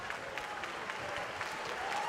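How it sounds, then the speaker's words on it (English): Applause from the crowd at a women's professional boxing match, honouring both fighters after a ten-round championship bout. It comes as a steady, dense wash of clapping throughout, moderately loud and unbroken. "let's have a big round of applause for both of the fighters in this ring."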